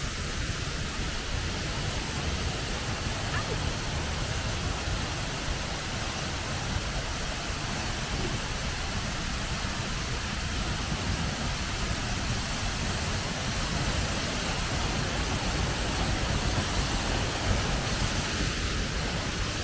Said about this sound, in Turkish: şimdi o büyük şelaleye geldik. Sendang Gile.